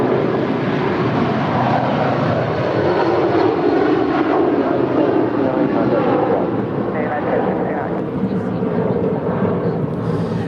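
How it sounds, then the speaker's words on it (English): A twenty-year-old United Boeing 757-300 airliner departs LAX with a loud, steady jet roar that holds throughout, mixed with broadband noise and faint voices in the background. "This is United 1069 departing to Chicago. It's a 20-year-old 757-300."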